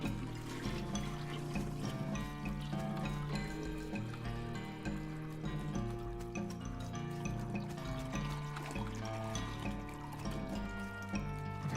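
A toilet flushing in the West of Loathing video game, a steady pouring and trickling water sound that runs continuously and loudly over a layer of tonal game music.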